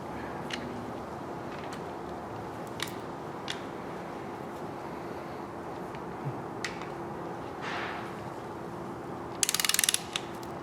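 Ratchet wrench tightening oil pan bolts on a 5.3L LS LM7 V8 engine, giving a few short sparse clicking bursts against a quiet hum, with a faster run of clicks near the end.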